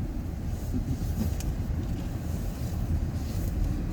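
A bus passes on the road in cold weather, a low engine rumble and tyre roar holding steady at close range, with wind buffeting the microphone.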